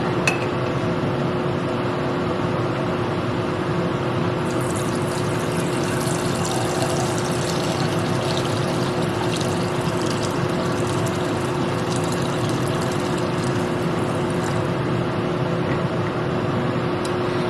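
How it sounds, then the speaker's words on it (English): A pan being filled with a quart of water from a tap, a steady, loud continuous rush that runs unbroken for the whole stretch with no voices. "I'm going to fill this with a quart of water"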